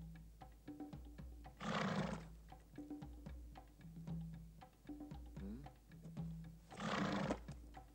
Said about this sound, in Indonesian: Macan lapar.